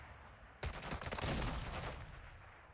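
Gunfire in the video game Call of Duty Warzone, a sudden close burst of rapid automatic shots that rattles on for over a second before cutting off and fading into quiet.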